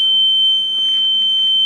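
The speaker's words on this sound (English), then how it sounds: "there's my smoke alarm going off" A kitchen smoke alarm set off during cooking sounds a loud, continuous high-pitched electronic tone, close by and unbroken, with faint room noise beneath.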